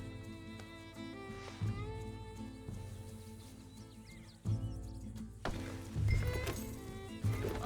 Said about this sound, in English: That's a healthy-looking horse.